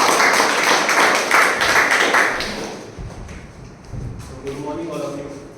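Audience applause welcoming a Toastmaster to the stage at a club meeting, a dense burst of clapping that thins out after a few seconds into scattered claps and faint murmuring voices.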